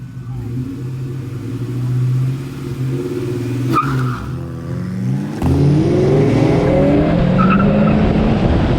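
An MK5 GTI and a Mustang GT launch from a stop in a street race, with loud engine roar climbing through gears, and an abrupt shift drop midway before the revs rise again, all close up.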